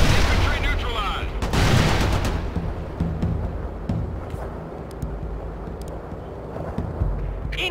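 Artillery shells and gunfire crash loudly in World in Conflict, during a Soviet mountain defense mission, with a dense burst of blasts at the start that fades into a lower, rumbling barrage of scattered distant impacts.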